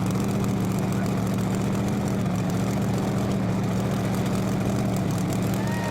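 A modified pulling tractor with two turbocharged V12 engines roars in a loud, steady, low drone with a rising whine, heard from a distance at an outdoor pulling event.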